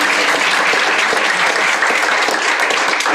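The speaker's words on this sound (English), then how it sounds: "One big round of applause for all of the speakers." An audience at a school desegregation event claps for the speakers, loud, dense applause sustained evenly throughout.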